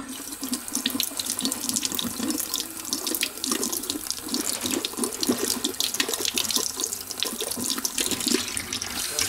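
Hot water runs steadily from a household sink tap, a continuous splashing rush close by with no talking.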